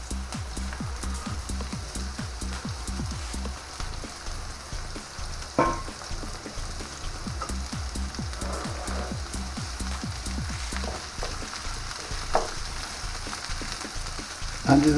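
Bell pepper sizzles in hot oil in a pan over a high gas flame, a steady, close, dense crackle that runs alone for the whole stretch, broken by a couple of brief sharper pops or clinks.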